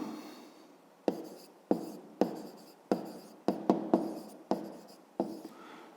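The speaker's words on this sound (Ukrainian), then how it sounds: "Пишемо відповідь." A pen writing an answer by hand on paper for a 5th-grade geometry exercise: about nine short, crisp scratching strokes, close and distinct, spaced irregularly across a quiet background.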